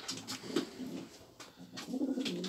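Soft cooing from a Polish show racing pigeon with a low, warbling pulse, heard a few times against a background of faint rustling and room noise.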